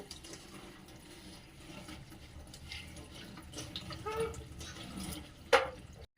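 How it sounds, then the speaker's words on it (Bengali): Fenugreek leaves being washed in a bowl of water make soft, continuous sloshing and splashing at close range, ending with a brief louder splash near the end. "এটাকে মেথি শাকগুলোকে ভালো করে জলের মধ্যে ধুয়ে নেব"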